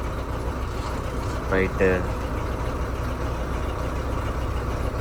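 A truck engine idles with a low, steady rumble as the vehicle is set straight to park, a close and constant drone under a brief spoken word.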